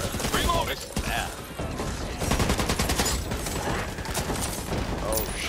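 Dense, rapid gunfire from the Back 4 Blood beta, a co-op shooter game, rattles through the whole stretch in overlapping bursts, loud and close, with voices partly under the shots.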